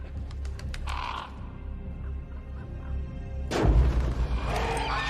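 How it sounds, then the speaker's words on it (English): Crows calling in a film scene, a few distinct caws at a distance over a low rumbling background, followed by a sudden loud burst of noise. "Look at all them birds."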